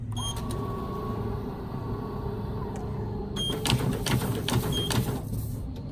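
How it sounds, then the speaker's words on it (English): A Duplo DF 920 automatic tabletop paper folder runs steadily, its mechanical hum and whir carrying a dense rattling layer that grows busier and slightly louder in the second half as sheets feed through and fold. "And here I will go off by demonstrating one of the folds."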